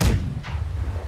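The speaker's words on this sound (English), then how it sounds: "Right side cannons fire." Ship cannons fire in the naval battle game Blackwake, a deep booming blast followed by a second muffled thud and low rumbling, close and heavy with no speech.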